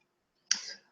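A single sharp computer mouse click, close and crisp, followed by a short fading rattle, with silence before it.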